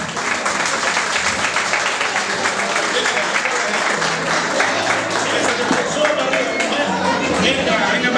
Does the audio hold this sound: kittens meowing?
no